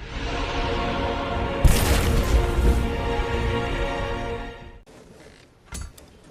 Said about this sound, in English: Somebody's shooting our base.